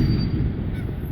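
Ducks walking along a street give a brief honking, quacking call over a low outdoor rumble, with the birds fairly close and the sound lasting only about a second.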